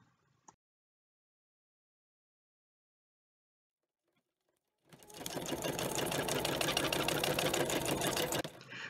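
A sewing machine runs white thread in a straight line over sequins, starting after a long silence with a brief click early on, then whirring steadily and loudly for about three and a half seconds before stopping.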